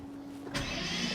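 A Lamborghini Murcielago engine turns over and catches partway through, a sudden burst settling into a rough, loud idle from a car badly needing an exhaust, heard close by.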